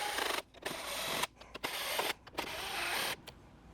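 A 7mm socket on a ratchet or power driver works out the bolts of a Jeep JL fuse box, giving close, loud whirring runs broken by short pauses and clicks, with no voices.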